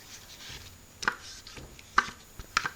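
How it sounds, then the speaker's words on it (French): Spatula scraping the sides of a Thermomix bowl after blending fruit juice: three short, sharp scrapes about a second apart, close and fairly quiet, with no voice. "Je vais racler les bords de mon bol."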